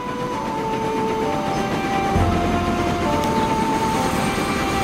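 A train in the video game Transport Fever 2 running through a mountain tunnel route, with a continuous loud rumble and rail noise, some faint clicking, and tones sustained throughout.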